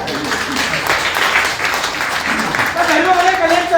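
Applause from a crowd at a training session sounds as a dense, continuous wash of clapping throughout, with voices mixed in beneath it.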